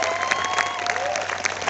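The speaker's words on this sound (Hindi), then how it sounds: "एक जोरदार तालियां मैं आपकी तरफ से चाहूंगा।" Brief burst of clapping from an audience at a motivational business event, steady and fairly loud, with a few louder claps and a faint sustained tone underneath.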